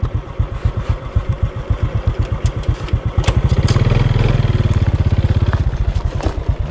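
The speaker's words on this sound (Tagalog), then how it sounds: "Blaster man natin yung ating motor mga idol." Motorcycle engine revving up and down up close, its rapid pulsing exhaust rising to a sustained high-rev roar in the middle before easing back, loud with no talk.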